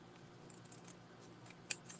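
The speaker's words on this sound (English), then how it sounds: "we'll need some tiny mini dimensionals that I'm going to cut in half" Scissors snip through mini dimensional foam adhesive pads, cutting them in half: a few small, quiet, sharp clicks in a still room, with one crisper cut near the end.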